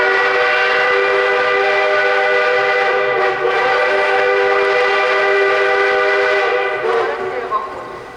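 Steam locomotive Er-799-18 sounding a long, loud, steady whistle at a Kyiv passenger station as the train departs, the sustained tone dominating nearly the whole time before tapering off at the end amid rail noise.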